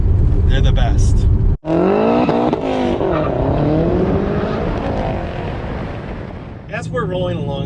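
A Lotus Esprit S4S with 54,000 miles on it drives along, its engine revving and changing pitch up and down loudly through the gears while someone talks over it.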